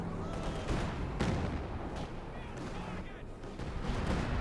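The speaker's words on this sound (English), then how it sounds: "Gun artillery strike against the German positions once more, though" Artillery strike in Company of Heroes 2 on German positions: dense rumbling barrage with repeated booming impacts and crackling gunfire, steady and loud throughout, with a voice talking faintly underneath.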